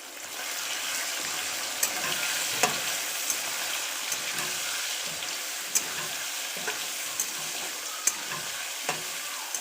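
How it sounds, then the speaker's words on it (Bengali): Mutton liver and fat frying in hot oil while being stirred, a steady loud sizzle with scattered clicks and scrapes of the spatula against the pan throughout. "এবার আমি খাসির মেটে চর্বিটা দিয়ে দেবো।"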